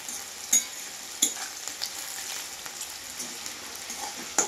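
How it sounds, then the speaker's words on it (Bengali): Chicken sizzling in a pan over a charcoal fire, a steady close hiss broken by a few sharp scrapes and taps as it is stirred. "ভালো করে এটাকে আমি লাল লাল করে ভাজবো।"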